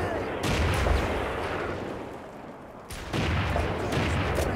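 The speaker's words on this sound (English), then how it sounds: "Mortars, mortars, mortars." Mortar and artillery fire in the video game Haze, heavy booming blasts that roll together into a loud, sustained barrage, easing briefly before a fresh burst of explosions.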